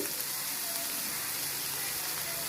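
Ingredients for kuzhi paniyaram sauté in a hot pan, giving a steady, even sizzle with a soft crackle that runs unbroken from start to finish, close and alone with no voices.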